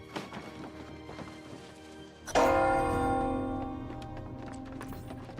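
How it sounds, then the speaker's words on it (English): In the video game New World, a bell is struck once with a sharp clang, then rings on and slowly decays, following quieter scattered clicks and footsteps. "Ring the bell."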